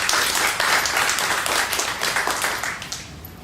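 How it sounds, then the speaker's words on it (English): Loud, close applause from a PTA campaign forum audience for school board candidates, dense clapping that continues steadily and thins slightly toward the end. "So please give them a round of applause."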